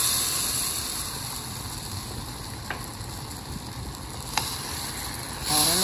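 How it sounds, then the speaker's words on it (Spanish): Red beans dropped into a hot pot to stew, giving a steady, soft sizzle with a couple of small clinks and a brief louder stir at the end, with no talk. "Estamos listos para poner los frijolitos y guisarlos"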